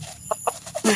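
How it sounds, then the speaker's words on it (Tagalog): A few short clucks from a chicken, close by, ending in a louder squawk. "Nagdala po ako ng isang manok"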